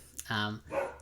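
A dog gives a couple of quick, fairly close barks while a person talks over it.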